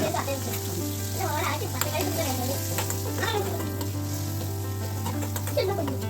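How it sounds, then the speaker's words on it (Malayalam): Tomato, small shallots and garlic frying in coconut oil in a Kerala kitchen, a steady close sizzle running throughout with occasional stirring clicks, while someone talks over it and a voice is faintly heard. "പിന്നെ അതൊന്ന് ചൂടാകുമ്പോൾ ഒരു തക്കാളി, ഒരു 5-6 ചെറിയ ഉള്ളി, ഒരു ഇല്ലി വെളുത്തുള്ളി ഇട്ടിട്ട്"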